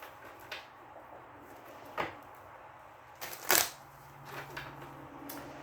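Tarot cards being shuffled by hand: a few short, crisp riffles and slaps, the loudest burst near the end, separated by quiet pauses in a calm indoor room.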